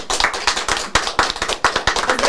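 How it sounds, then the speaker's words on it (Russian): Audience applause at an online business forum prize draw, a dense burst of many hands clapping with irregular loud swells, close and steady throughout with no voices over it. "наши аплодисменты"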